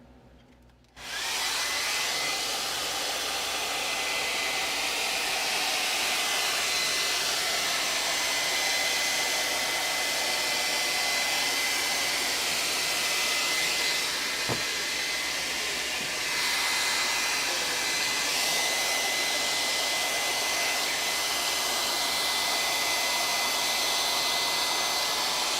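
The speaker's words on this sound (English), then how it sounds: "I might use a hair dryer" A hair dryer switches on and blows with a steady, loud whooshing whir that runs unbroken for the whole stretch. A brief click sounds partway through.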